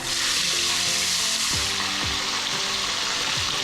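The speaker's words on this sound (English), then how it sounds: "now it's time to start the frying of the fish." Fish frying in extremely hot oil in a pot for a Jamaican fried fish dish, a loud, steady, dense sizzle filling the whole stretch, with a few low knocks and scrapes from the pot underneath and no voices.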